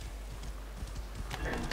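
Rhythmic clip-clop of horse hooves in the video game Assassin's Creed Origins over a steady low rumble, with a brief burst of brighter noise near the end.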